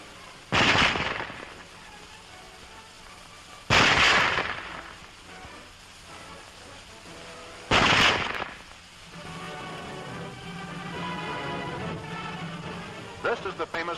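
Three sharp, loud single rifle shots from a German Model 98K bolt-action, spaced a few seconds apart, each with a short echoing tail, followed by someone talking.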